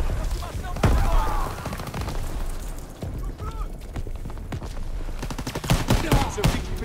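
Artillery booms and bursts of gunfire during a beach landing in the Call of Duty WWII video game, loud and continuous with sharp cracks, mixed with shouting voices.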